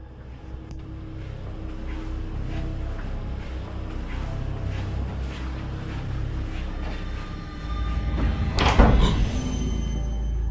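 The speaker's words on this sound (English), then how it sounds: "the next moment the door that they just passed by closed out of nowhere" A door in a hotel hallway swings shut on its own, a single sharp bang near the end that stands out above a low, steady background rumble.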